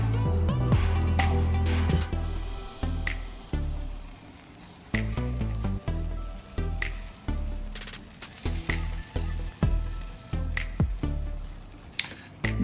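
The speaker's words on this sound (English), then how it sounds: "Put it onto the Weber kettle there and just crank the heat as high as possible." A reverse-seared tomahawk steak hisses on a Weber kettle grill cranked to high heat, a steady sizzle broken by frequent sharp crackles, pops and occasional low thuds.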